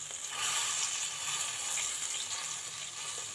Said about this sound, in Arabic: يا سلام على الطشه